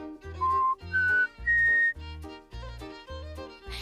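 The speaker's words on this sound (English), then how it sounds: "try an easier sound like whistling" In a cartoon scene, a series of short whistled notes rises in pitch, followed by several more even tones in a steady rhythm, with no talk.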